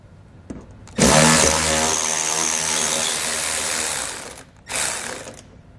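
A power ratchet runs in a steady whirring, rattling burst for about three seconds, removing T15 fasteners during a Blue Ox base plate install on a 2011 Chevrolet Traverse, then stops and gives a second short burst.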